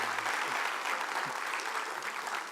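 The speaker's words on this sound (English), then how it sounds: "What you guys are doing is what is called British clapping." An audience claps politely at a live stage event, giving an even, moderate patter of many hands that holds steady, slightly distant, with no voices over it.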